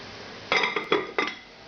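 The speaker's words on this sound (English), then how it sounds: "Cover goes back on." A metal lid is set back onto a pot of simmering beef bourguignon, giving a few close, bright clanks and rattles over roughly a second, then quiet.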